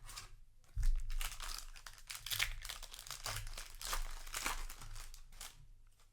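A Magic the Gathering Phyrexia: All Will Be One booster pack's foil wrapper is torn open and handled, giving several seconds of loud, close crinkling and tearing with bursts of crunchy rustle.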